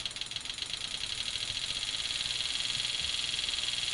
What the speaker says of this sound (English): if you listen to the sound, you can hear the injector speed up